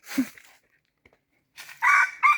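Rooster crowing in a rural Lao or Thai village setting, two loud close crows separated by a quiet pause, the first short and the second longer and rising, with no talking.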